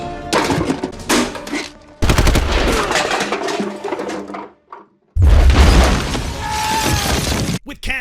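Grenade blast and rapid gunfire from the action film Punisher War Zone, with loud bursts, shattering debris and heavy booms in dense clusters separated by short silent gaps.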